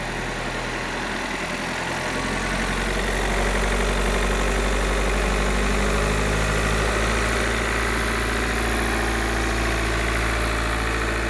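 A 2.0 TDI diesel in an Audi A4 B8 quattro idles steadily after an oil pump repair, a loud, even low rumble with a constant vibrating hum close by and no speech.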